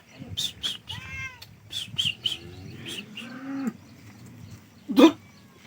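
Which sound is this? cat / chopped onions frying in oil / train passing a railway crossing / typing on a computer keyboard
cat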